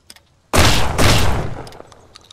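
Automatic gunfire in the survival game Mist Survival: a loud, close burst that fires in two dense sustained bursts with a brief dip between them, then trails off into faint scattered echoes.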